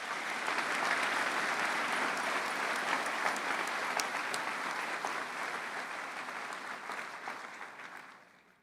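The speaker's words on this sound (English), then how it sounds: "Please give them a round of applause" A crowd at a spring commencement ceremony applauds graduates with broad, steady clapping that holds strong for several seconds, then gradually tapers and fades toward the end, no voices over it.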